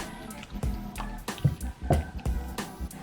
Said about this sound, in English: Then pour the rest of the milk in.